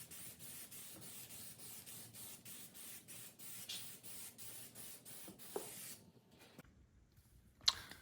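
High-heat spray paint from an aerosol can, applied in a rapid series of short, rhythmic bursts of faint hiss that stop partway, followed by a few isolated clicks and rattles.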